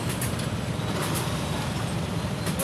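Congested road traffic heard as a steady, close roar of engines and tyres with heavy vehicles mixed in, continuous and fairly loud throughout, with no one talking.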